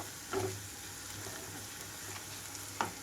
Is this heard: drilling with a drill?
no